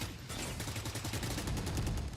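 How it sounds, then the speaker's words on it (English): Dense, sustained gunfire from a Valorant match, rapid overlapping shots forming a loud continuous fusillade with machine-gun-like bursts throughout, no talk. "that's a lot of gunshots from Fnatic"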